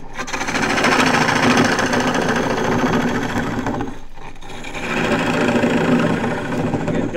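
A half-inch bowl gouge cuts a wooden bowl spinning on a lathe, making a loud, close, continuous rough scraping hiss that stops briefly in the middle and then resumes.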